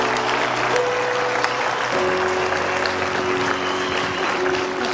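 A church congregation claps steadily and loudly together, dense continuous applause filling the room with no gaps, a few higher tones ringing faintly underneath.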